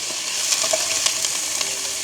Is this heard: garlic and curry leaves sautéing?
yes